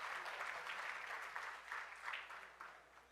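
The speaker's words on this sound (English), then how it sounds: "Give yourselves a big round of applause for being here with us today." Audience at an achievers' event claps in a faint, distant round of applause that rises and tapers off over a few seconds.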